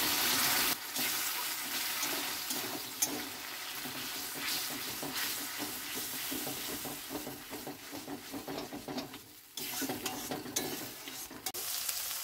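Spiced masala with a little sugar sautéed in a pan for jackfruit and prawn curry, a steady loud sizzle and frying hiss with repeated scraping stirs, one brief pause near the end, no talking.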